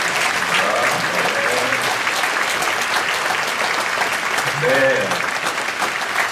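A church congregation at a Friday night worship service claps loudly and continuously, a dense wash of applause with a few voices speaking briefly over it.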